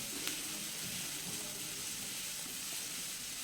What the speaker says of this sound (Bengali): একটু পরে পরে একটু নেড়ে চেড়ে পেঁয়াজ আমি এখানে ভেজে নিচ্ছি